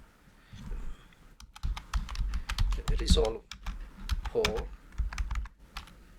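Typing on a computer keyboard during a screen-capture tutorial, a steady run of quick, close key clicks with brief pauses, some keystrokes louder than others.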